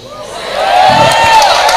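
An audience at a religious lecture lets out a short swell of crowd cheering and clapping, loud and building over under two seconds, with voices mixed in.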